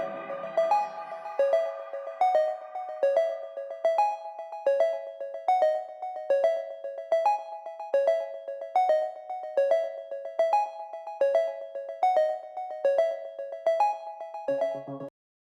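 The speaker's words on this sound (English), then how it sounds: "it's rhythmic, it's got a little bit of delay on it, it's got that old kind of synthy sound to it." An old-style synth from a film score repeats a rhythmic motif with delay echoes, a steady bright pulsing pattern of bell-like notes across the whole passage, with no talk.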